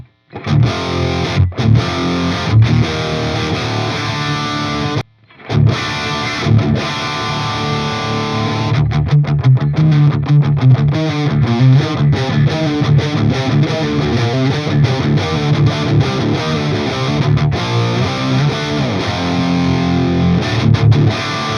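Heavily distorted electric guitar through a Deliverance amp head, played continuously with chugging riffs and sustained chords, loud and saturated, with a brief pause early on.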